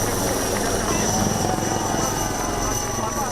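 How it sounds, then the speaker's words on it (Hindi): Air Force fighter jets roaring overhead during a flypast, a loud continuous engine roar that holds steady throughout with no clear rise or fade. "आसमान में हर तरफ इसी तरह से एयरफोर्स के लड़ाकू विमानों की गर्जना सुनाई"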